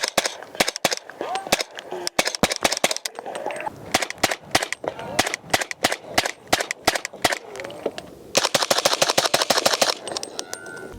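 Suppressed 300 Blackout rifle with a Radical Sinter suppressor and recoilless bolt carrier group fires in quick bursts of sharp, close reports, with short pauses between strings and a dense rapid string near the end.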